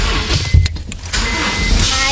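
A car's power window motor whirs briefly as the glass opens from inside the parked vehicle. It is a short, close mechanical hum set against a muffled low cabin rumble.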